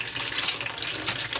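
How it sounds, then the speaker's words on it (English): Hot and cold water runs from a tap as a telescope mirror is gently rinsed under it, a close, steady splashing hiss with slight fluctuations and no talking. "very gently rinse the mirror under the tap"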